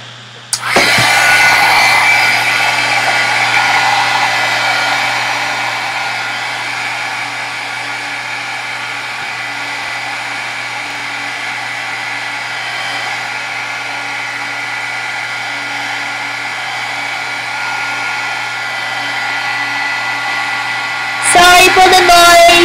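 A hair dryer blows steadily and loudly close by to dry a painted canvas, a constant whirring roar with a high whine that runs almost twenty seconds before switching off abruptly.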